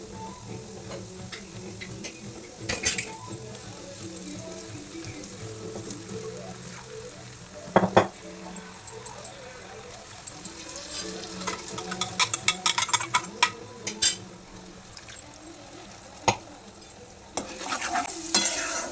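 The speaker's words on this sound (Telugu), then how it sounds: "ప్యూరీ అంతా పచ్చివాసన వెళ్ళేదాకా మనం ఉడికించుకోవాలి" Tomato puree frying in oil in a pan, a soft continuous sizzle broken by scattered clicks and scrapes of a spoon stirring, with denser bursts of stirring taps later on.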